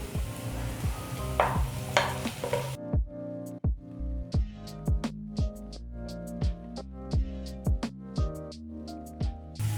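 Zucchini hitting a pan and being stirred, a brief burst of sizzling at the start, then evenly spaced scraping strokes and soft taps from a utensil against the pan, fairly close and without speech.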